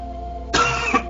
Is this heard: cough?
yes